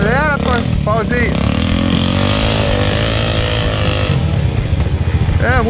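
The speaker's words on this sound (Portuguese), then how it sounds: "Vai. Acelera, Pauzinho." Honda CRF dirt bike engine revs loudly and steadily as it accelerates, pitch rising and falling through a muddy swamp trail, up close with people shouting over it.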